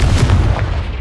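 A Confringo blasting spell explodes in Hogwarts Legacy, a loud, dense low boom that rumbles steadily through the whole moment with no quiet gap.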